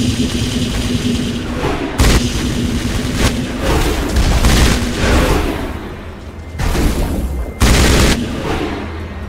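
Loud, sustained gunfire from the video game Mass Effect, with dense overlapping bursts and heavy booms rolling through the whole stretch, punctuated by several sharper blasts.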